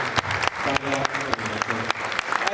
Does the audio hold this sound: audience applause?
yes